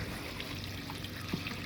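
Water runs steadily through a freshly unclogged house rain gutter, a continuous close trickle and stream with no voices.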